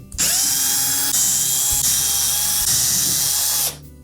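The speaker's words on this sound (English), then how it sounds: "then we can remove the 4 retaining screws" A power drill runs steadily for about three and a half seconds, close and loud, with a high whine that dips briefly now and then. It is backing out the 3/8 hex head retaining screws on a Whirlpool refrigerator during a front roller replacement.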